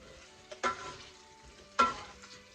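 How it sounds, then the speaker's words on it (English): Salted potatoes frying in a pan for a German farmer's breakfast are turned and coated, with two quick scraping stirs rising over a faint, quiet sizzle, close by. "I'm just turning them, getting them all coated here."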